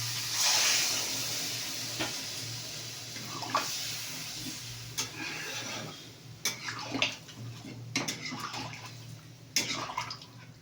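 Water being poured into cooked-down spiced masala in a pot, a running splash and hiss with scattered drips and clinks, moderately loud, no talking.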